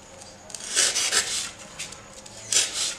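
Carved styrofoam planter being polished: a series of soft, uneven rubbing and rasping strokes, close up, louder in two bursts, with no talk.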